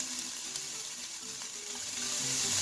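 Mussels sizzling in hot olive oil in a pan while being stirred: a steady, bright frying hiss with faint scraping and clinking of the stirring utensil, close and continuous with no talking.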